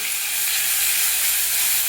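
Garlic and coriander paste frying in hot oil with cumin seeds, a steady, close, bright sizzling hiss that holds evenly throughout with no talking.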